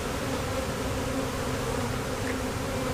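A swarm of honeybees in a backyard hums in a dense, continuous drone close to the microphone, a steady buzzing mass with no voices over it.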